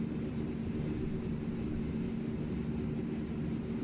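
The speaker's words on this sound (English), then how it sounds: "Alright, we're going to bring some power off the airplane." Engines of a C-160 Transall transport aircraft in Microsoft Flight Simulator drone steadily as power is reduced, a continuous low rumbling hum with no voices.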